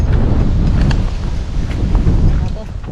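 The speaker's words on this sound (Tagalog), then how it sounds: "Puro hangin po." Strong wind buffets the microphone in a constant low roar, loud and close, with faint sounds behind it, outdoors during airgun fishing.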